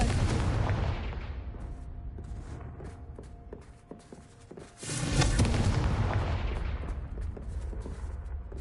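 Confringo fire spell blasts in Hogwarts Legacy, loud booming explosive bursts with crackling debris over a dense rumbling background, easing slightly before a fresh heavy blast hits near the middle and keeps roaring.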